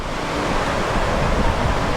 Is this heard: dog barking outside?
no